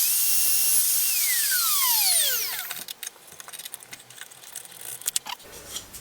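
WoodRat router with a half-inch (13 mm) dovetail bit plunging into a profile template: a loud high motor whine with falling pitch sweeps for about two and a half seconds, then cutting off into quieter scattered clicks and rattles.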